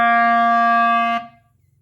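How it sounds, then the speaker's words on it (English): A sustained reed instrument note, bright and rich in harmonics, holds steady for about a second before a crisp tongued T cuts it off cleanly, leaving a faint room decay; close and solo. "If I stop the note with T, it will sound like this"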